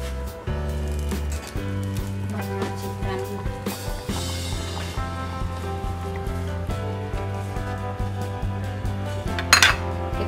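Dishes and utensils clink and clatter as serving containers are set out in a kitchen while cassava is being made, with light knocks and scrapes under soft background music.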